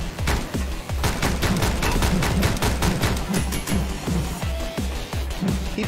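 Rapid gunfire in the video game Speed Limit, a loud, sustained run of evenly spaced shots that hammers on without pause, close and dominant.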